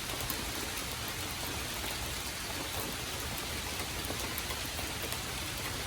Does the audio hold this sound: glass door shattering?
no